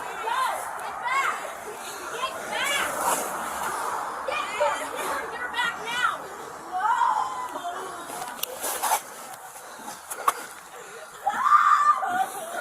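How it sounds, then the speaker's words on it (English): Family members of a handcuffed man scream and cry during an arrest, their distressed voices rising and falling in the background amid chatter and other voices, with louder outbursts near the end. "the noises that you hear in the background, the screaming and the crying, that is the family of the the dude who is in handcuffs"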